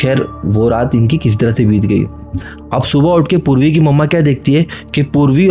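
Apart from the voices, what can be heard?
No everyday noises stand out.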